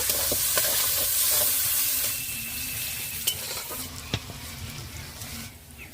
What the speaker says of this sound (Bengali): এবার দিয়ে দেবো পেঁয়াজ বন্ধুরা এটা একটু হালকা করে ভেজে নেব